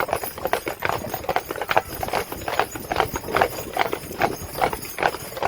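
Hooves clip-clop in a steady, brisk rhythm on a hard surface, close and clear, with a four-horse hitch pulling a wagon together.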